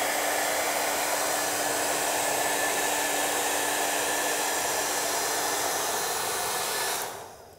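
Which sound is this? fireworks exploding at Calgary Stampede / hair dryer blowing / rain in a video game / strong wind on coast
hair dryer blowing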